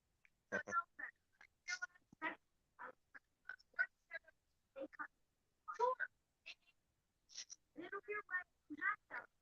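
A person imitates a duck by quacking in a clipped, voiced way, a string of short separate quack-like bursts with gaps between them, close and clear against silence.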